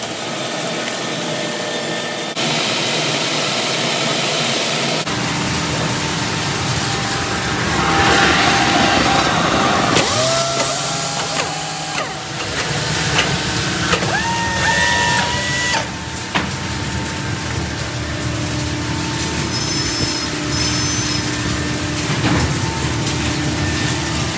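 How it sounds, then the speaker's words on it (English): Edge sanders fitted with 150 and 180 grit discs grind solid wood end grain in a loud, continuous mechanical roar, with the pitch shifting and tonal whines rising as the wood presses against the discs. "I'm going to pop a 180 disc on the last sander and see if we can't get it polished up a little more."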